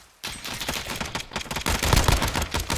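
Pistol fire in Modern Warfare bursts out in quick, punchy shots that stack up into a loud, dense volley. Other game sounds mix in, and no one speaks.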